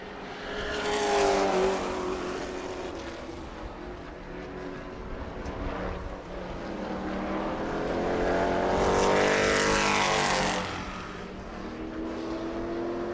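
Race cars lapping during group qualifying at New Smyrna, two distinct pass-bys swelling and fading with Doppler-shifting engine whine, plus a steady background drone of other cars, no speech.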